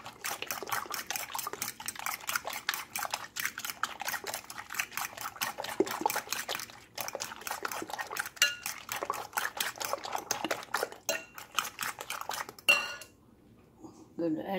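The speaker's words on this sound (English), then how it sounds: "So beat this egg with the fork." A fork beats an egg with salt in a bowl for a shrimp omelette, giving rapid, steady clinking and tapping strokes close up, ending in a few louder knocks before falling quiet.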